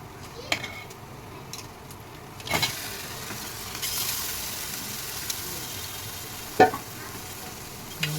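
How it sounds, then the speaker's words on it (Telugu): Fish pieces dropped into hot oil for a Sunday fish pulusu, a soft sizzle rising through a quiet kitchen with a few sharp clinks and thumps of the pan and utensil, no talking. "వేగితేనే బాగుంటుందండి ఇప్పుడు చేప ముక్కలు వేసేద్దాం మనం"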